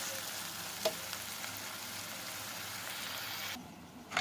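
Spices, onion, garlic and ginger sauté toward brown in a pan, giving off a dense, even sizzle near the listener, broken by a couple of short stirring knocks. The frying briefly dips and then flares at the end.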